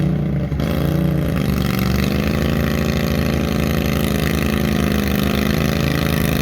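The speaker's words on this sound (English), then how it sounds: "this is the lawnmower pulling part of this in the morning before we do the big trucks" A lawnmower engine at a tractor pull drones loudly and steadily close by, holding a rough, throbbing idle with slight rises in pitch, no voices over it.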